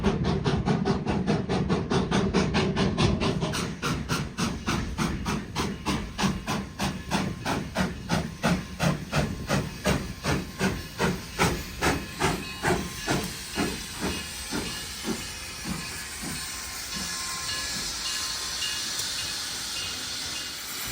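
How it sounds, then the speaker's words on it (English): Two narrow-gauge 2-8-2 Mikado steam locomotives, a K36 and a K37 on the Durango & Silverton line, hiss loudly and chuff in a rapid regular beat that quickens then blurs into steady steam hiss. "2 of Durango and Silverton's famous narrow-gauge steam locomotives, specifically a K36 and a K37"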